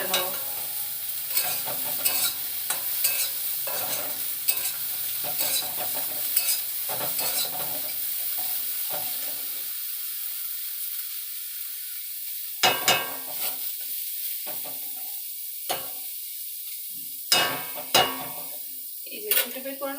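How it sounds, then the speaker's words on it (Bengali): Eggplant stir-fried in a little oil, with potato added earlier, sizzles steadily in the pan while a utensil scrapes and taps through repeated bursts of stirring, close and moderately loud. "একদম অল্প তেল দিয়ে বেগুনটাকে জাস্ট এপিট ওপিট করে নেব।"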